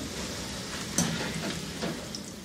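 Small potatoes, halved, frying in hot oil: a steady, dense sizzle and crackle close up, continuous throughout with a couple of brief spatters standing out.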